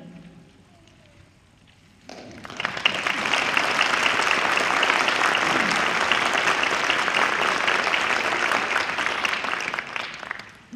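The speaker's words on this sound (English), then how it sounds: "please stand so we can applaud you" An audience applauds middle school mariachi students at an orchestra concert, a sustained, dense burst of clapping that starts abruptly after a quiet moment and carries on steadily for several seconds, fading slightly at the end.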